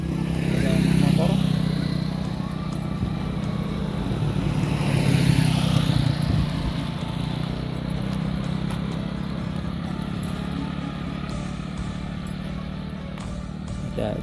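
Motorcycles pass along a busy village road on a bright afternoon, their engines swelling and fading one after another over a constant hum, close and fairly loud.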